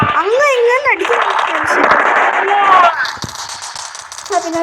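Gunfire from the video game Dude Theft Wars, with loud shots popping under continuous excited talking from a player.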